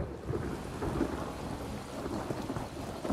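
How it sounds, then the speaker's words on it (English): Steady heavy rain with rolling thunder during a storm in Elder Scrolls Online, a dense continuous downpour with low rumbles underneath, no voices. "I could do without this damnable rain. It's been storming since we arrived, and it shows no sign of letting up."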